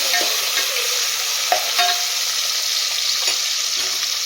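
Onions sautéing to golden brown in a pan for vegetable biryani, a steady hiss of frying broken by intermittent scrapes and clicks of stirring, close and even in level, with no voices.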